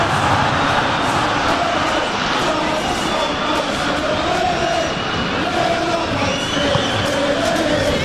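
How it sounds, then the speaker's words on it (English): A stadium crowd in the video game eFootball 2022, during a Juventus versus Tottenham Hotspur match, roars loudly and steadily, a dense wall of cheering that fills the whole stretch without a break. "Well, the crowd clearly like what they just saw."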